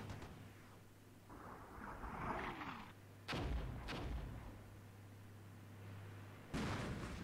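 Tank main gun fire in the Armored Brigade war game, sharp heavy booms that arrive separately over a steady low engine hum, each blast followed by a rumbling tail.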